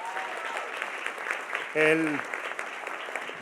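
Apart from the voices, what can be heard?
audience applause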